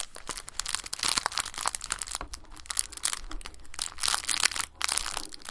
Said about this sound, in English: The gentle sound of the crinkles.